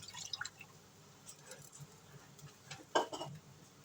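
Cold water poured into a pot with brown gravy mix in a home kitchen, short splashing and dripping sounds scattered through quiet, with a louder splash near the end.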